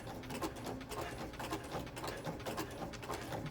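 A sewing machine stitching a coil of rope into a bowl, a quick mechanical clatter with rhythmic ticking pulses, close but quiet, running steadily without pause.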